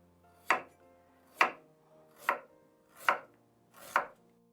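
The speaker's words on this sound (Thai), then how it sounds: "ขิงเราก็หั่นนะคะ" Five sharp knife chops through ginger on a cutting board, evenly spaced about a second apart, close and crisp with no talking.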